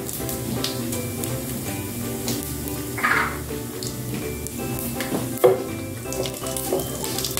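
Whole cardamom, cloves, black pepper, a cinnamon piece and cumin seeds roast in hot oil for keema matar, giving a steady, close sizzle throughout with a few louder crackling bursts.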